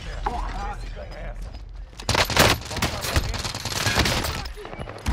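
Heavy video game gunfire in Call of Camper 2.0: dense bursts of automatic shots break out after a quieter opening and continue loudly to the end, with a voice underneath.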